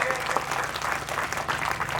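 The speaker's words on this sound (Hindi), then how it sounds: "मैं चाहता हूं इन सब के लिए एक बार जोरदार ताली आप लोग बजा दीजिए" A crowd at a party workers' conference breaks into strong, sustained applause, dense clapping filling the hall for the whole stretch with a faint murmur underneath.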